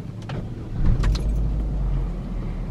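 A 2017 Chevrolet Cobalt Elite 1.8 flex automatic with 170,000 km is started from inside the cabin. A few light clicks lead into the engine catching and settling into a steady, low, close idle.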